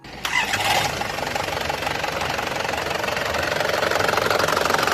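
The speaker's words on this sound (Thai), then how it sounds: "เดี๋ยวเรามาฟังเสียงเครื่องกันครับ" A 2.8-litre diesel engine in a 1998 Isuzu Adventure cranks and catches, then settles into a loud, steady clattering idle, close by, with no talking.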